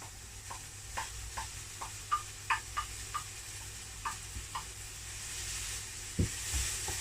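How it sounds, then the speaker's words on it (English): Chopped back bacon sizzles in a pan with softened leeks, a steady low fry broken by a series of sharp taps and scrapes as it is stirred. "I am going to add chopped bacon"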